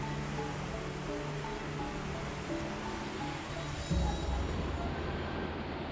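Tuntang River flowing beneath a bridge in Central Java, a steady broadband rush of water close to the microphone, with a brief louder low thump near the end.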